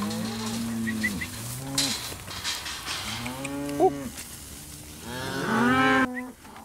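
Several cows and calves moo repeatedly, some calls deep and others higher, overlapping at close range with brief pauses between.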